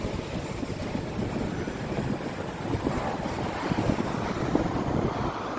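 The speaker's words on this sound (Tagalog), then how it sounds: "Ang sarap po ng hangin dito sa taas." Steady wind at a hilltop viewpoint overlooking Upper Thompson, a continuous broad rushing and low buffeting on the microphone with no one talking.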